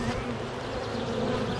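Honeybees drone around an open hive during a spring inspection, a dense, steady buzzing swarm close by with no voices.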